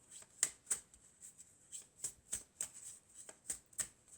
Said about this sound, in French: Alors, on va prendre encore une carte.